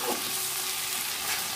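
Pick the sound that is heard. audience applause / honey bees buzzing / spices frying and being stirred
spices frying and being stirred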